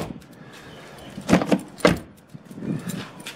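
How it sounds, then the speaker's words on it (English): A Mercedes W203 unlocks all its doors by key fob. Two quick mechanical clunks from the door locks sound close by, followed by a softer shuffling thud. "it will unlock all doors."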